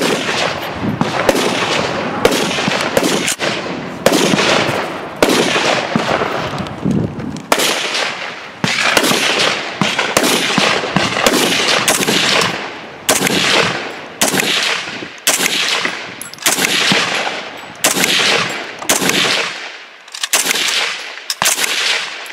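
An FN-49 semi-automatic rifle fires heavy 196-grain 8mm Mauser rounds in a long run of loud, sharp shots, roughly one or two per second, each blast followed by a brief echoing tail.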